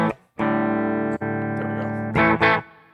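Electric guitar played through a captured amp tone with reverb switched on: two long sustained distorted chords ringing out, then a pair of short strummed hits, no talking.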